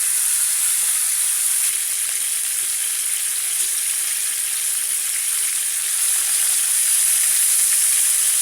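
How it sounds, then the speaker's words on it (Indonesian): Fish fries in oil in a wok with a steady, even sizzle and hiss that holds at a constant moderate level throughout. "Kita akan goreng ikan ini hingga garing terlebih dahulu ya, jangan dibalik-balik."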